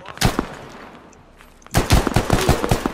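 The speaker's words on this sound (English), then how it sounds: "Stop fucking shooting." Rapid bursts of gunfire in the military shooter game Squad, a single loud shot followed after a pause by a dense run of close, sharp automatic rounds.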